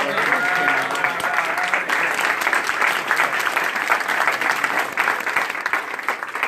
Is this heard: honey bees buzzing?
no